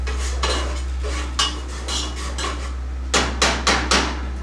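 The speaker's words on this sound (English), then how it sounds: "Taking my spoon, I'm just going to kind of stir that around in there." Metal spoon clinking and scraping in a pan of onions and butternut squash, a run of irregular knocks ending in four sharp, evenly spaced taps close up, over a steady low stovetop hum.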